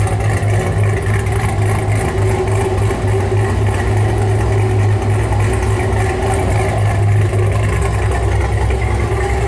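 A Camaro's engine rumbles steadily at a deep, throaty idle through a loud aftermarket exhaust, continuous and close, with no voices.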